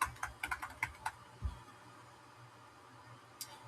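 Close, quick typing on a computer keyboard: a short run of crisp key clicks, then a pause and one more faint tap near the end.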